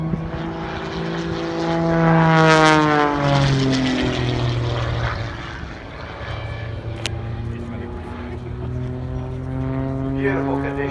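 Propeller engine of an aerobatic aircraft at an air show, pulling tight through a manoeuvre: a loud droning buzz whose pitch rises and falls as it passes, steady and fairly close throughout, with a voice speaking over it.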